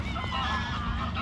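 Large geese honk in Goodmayes Park, London, during a fun run, a close, steady stream of overlapping nasal honks against outdoor background noise.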